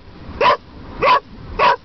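A dog barks three times at an even pace inside a car on the way to the park; each bark is loud and close, with a low road rumble between them.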